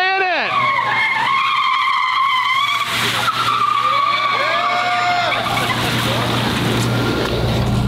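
A newly delivered hypercar skids with loud, sustained tire squeal, sweeping pitches that rise and fall over a steady engine drone, close and continuous with faint voices in the background.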